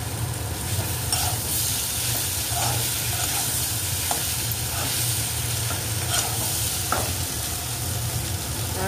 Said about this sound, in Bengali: এবার এগুলো সব কিছু দিয়ে ভালো করে কষাতে হবে।